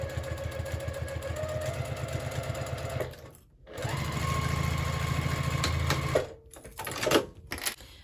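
A sewing machine stitches a quilted scrap-fabric tote bag, its motor whirring in a rapid steady chatter for a few seconds, pausing briefly, then running again before stopping with a few small clicks and handling noises.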